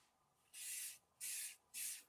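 Three short, soft hissing bursts of spray finish are spritzed onto a pen in a woodturning shop, evenly spaced with quiet pauses between them, no talk.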